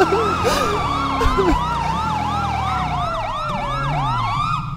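An emergency vehicle siren wails close and loud, its rising and falling tone cycling steadily with a second siren layered over it, alone without talk.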